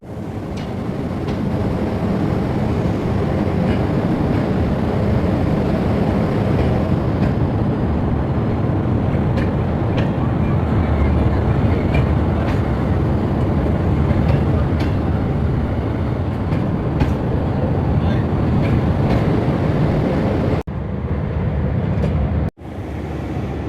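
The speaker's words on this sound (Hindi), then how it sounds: "दो मिनट के स्टॉप के बाद हम मियाँ चनू स्टेशन से रवाना हो चुके हैं।" Jaffar Express passenger train pulling out of Mian Channu station, a continuous loud rumble and clatter of the carriage heard from inside, steady throughout, with faint squeaks and a brief dropout near the end.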